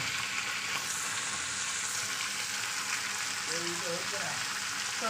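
Potatoes frying in a covered pan give a dense, even sizzle that hisses steadily and close throughout, with a faint low voice briefly underneath.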